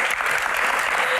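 Family audience applause filling a short burst, dense and steady clapping close by with no gaps.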